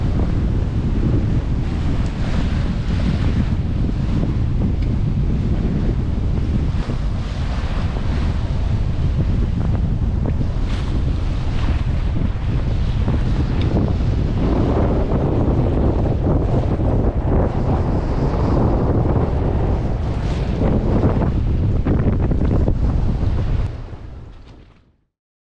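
Strong wind buffets the microphone on a sailboat at sea as building waves surge and wash against the hull, a loud, continuous roar with no speech that holds steady and then cuts off abruptly at the end.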